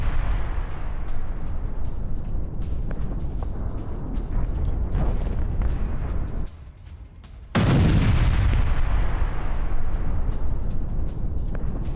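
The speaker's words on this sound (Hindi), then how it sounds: "हमास की 20 मीटर गहरी सुरंग को विस्फोटक छोड़ा दिया गया।" Explosives detonating inside a 20-metre-deep Hamas tunnel near a residential area in Gaza, loud repeated booming blasts with a brief lull and then a heavy renewed burst, no voices.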